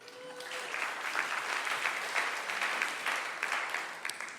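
Audience applause at a DevOpsDays conference in a historic Kansas City building, a steady, moderately distant wash of many hands clapping, alone and without talk.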